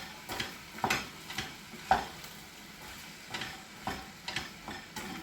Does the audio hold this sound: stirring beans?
yes